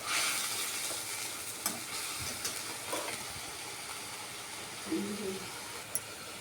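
Potatoes coated with turmeric are sautéed over medium heat in a pan for aloo dum, a soft, steady sizzle broken by a few clinks and scrapes of a spatula.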